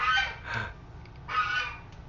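A goose gives two separate harsh, nasal honks about a second apart, near and fairly loud, with quiet between them.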